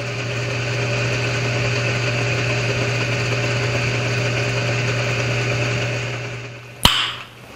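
Metal lathe turning a taper, cutting tool feeding to depth toward the large-end diameter: a steady, loud mechanical whir with a constant hum runs throughout, ending in a sharp clack near the close.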